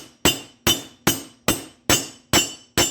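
Hammer blows on a 1 1/4 socket drive a part down into a Dodge RAM 3500 dually steering box until it seats on the shoulder: seven sharp metallic strikes at an even pace, close and ringing briefly.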